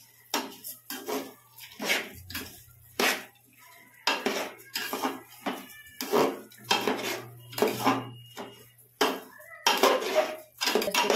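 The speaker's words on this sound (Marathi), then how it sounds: "याला व्यवस्थित मिक्स करून घेऊया." Pea pulao (mutar pulav) is mixed in a metal pot, a spoon scraping and clanking against the sides in repeated close, uneven strokes with brief pauses, and no talking.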